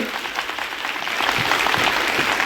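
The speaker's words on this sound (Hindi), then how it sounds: "तो एक बार अपने पेरेंट्स के लिए तालियां बजाइए" An auditorium audience at a school annual function claps for their parents, a loud, close, dense burst of applause that swells slightly and then cuts off abruptly.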